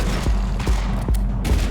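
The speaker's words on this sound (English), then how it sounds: "Watch this, we go shotgun, shotgun." A shotgun fires in a video game with about four loud, booming blasts in quick succession, each a sharp low thump with a short tail.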